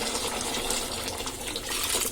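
Cooked lentil water pours from a glass into a pot of beetroot and potato sambar, a steady continuous splashing gush heard alone at moderate level.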